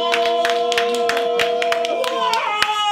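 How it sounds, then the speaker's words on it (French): A small gathering at the Bada Bar, a Yopougon venue opening in Paris, claps in sharp, separate strokes close by, while a sustained voice or musical tone hums underneath. "Il faut l'applaudir encore plus fort"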